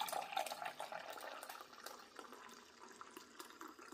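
Coffee streams from a pot into a cup with a soft, continuous liquid trickle and splash, faint and close, running steadily for a few seconds without any talking.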